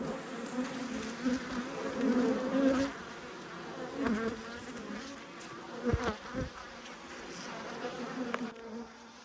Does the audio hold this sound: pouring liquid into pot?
no